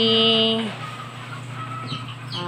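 A farm rooster gives a short, loud call at the start, then the sound settles into a steady background murmur with faint, brief clucks near the end.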